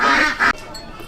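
Ducks in a town in Phong Nha, central Vietnam, give two loud, close, raspy quacks in quick succession, followed by quieter ambient noise.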